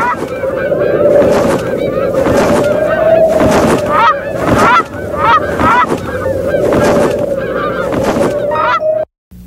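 Geese honk loudly and repeatedly in an outdoor setting, a dense, continuous chorus of overlapping calls with wind noise underneath.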